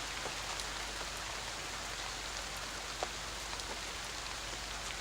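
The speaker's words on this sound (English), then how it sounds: "the sound of the rain on the coffin" Rain drums steadily on a coffin, a dense, even hiss of drops with a faint tap standing out now and then, continuous and unbroken.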